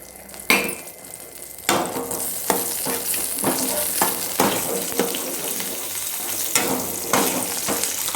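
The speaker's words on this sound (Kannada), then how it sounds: "ಈ ಕಡೆ ಗ್ಯಾಸಲ್ಲಿ ತುಪ್ಪನ ಇದು ಮಾಡ್ಕೊಂಡು ಡ್ರೈ ಫ್ರೂಟ್ಸ್ ಹುರ್ಕೊಳಕ್ಕಂತೇಳಿ ಇದು ಮಾಡ್ತಿದ್ದೀನಿ." Dry fruits such as raisins and cashews fry in ghee in a pan on a gas stove with a steady close sizzle, broken by repeated scraping and clinking strokes of a stirring spoon.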